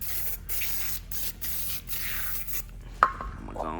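Oven cleaner sprayed in a run of short hissing bursts, about six quick pumps close to the nozzle, followed by a brief sharp click and quiet rustling afterward.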